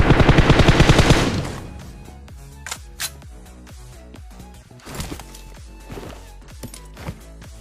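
A rapid burst of automatic gunfire knocks down an enemy in the PUBG video game, loud and close for about a second. Scattered lighter shots and clicks continue more faintly afterward.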